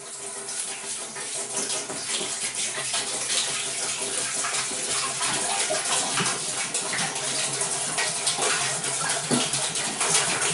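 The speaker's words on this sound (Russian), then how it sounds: "Теперь заливаем сюда 5 литров воды" Water pours steadily in a strong stream, splashing and gurgling into an autoclave, close up and continuous.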